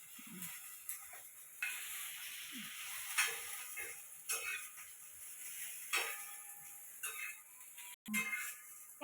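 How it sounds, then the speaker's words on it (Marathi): Onion and garlic frying in a pan, a faint hiss with scattered soft crackles and occasional scraping stirs, quiet and close. "आता मी कांदा पण भाजून घेते त्या आणि लसूण हा लसूण भाजून घे"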